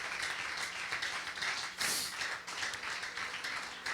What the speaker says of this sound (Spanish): La iglesia le da un aplauso a nuestro Dios en esta tarde.